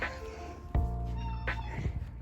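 Two house cats meow repeatedly at close range, a few drawn-out calls with brief pauses in a quiet indoor room.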